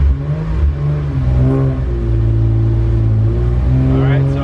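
A V6-powered Honda Integra accelerates hard, its engine note climbing steadily through the revs, loud and close from inside the car with no talking.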